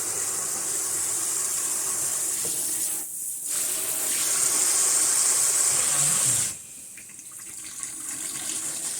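Water pours steadily from a tap while hair is rinsed, a close, even gushing hiss that briefly drops out twice as the flow is interrupted or the head moves under it, with no talking.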